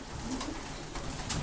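Pigeons coo softly in a coop during cold winter weather, low repeated calls that stay steady and close throughout.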